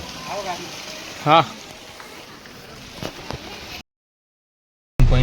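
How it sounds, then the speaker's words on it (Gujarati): Heavy rain at the hill station of Mount Abu gives a constant close hiss, overlaid by a short spoken word and a few sharp knocks before cutting to silence and then a loud burst at the end. "કેવો વરસાદ પડે છે જુઓ"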